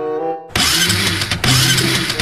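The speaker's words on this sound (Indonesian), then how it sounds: "coba ah Mamat pakai ah motornya" A motorcycle engine cranks and fires: a brief starter whine, then a loud close engine roar that dips for a moment and catches again, running rough and steady to the end.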